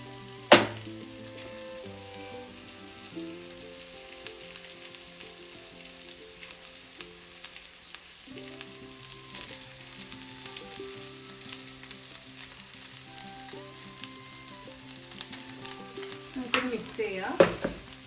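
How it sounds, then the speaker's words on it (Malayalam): Rice being added and stirred into a frying pan for onion rice, a soft continuous sizzle with occasional scraping clinks of the spoon near the start and end, fairly quiet and steady without voices. "അപ്പോൾ ഇതാ ഞാനിവിടെ റൈസ് ചേർത്ത് കൊടുക്കുകയാണ്."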